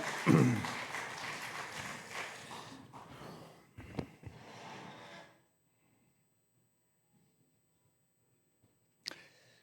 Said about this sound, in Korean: 다시 한번 큰 박수로 주님께 영광 올려드리겠습니다.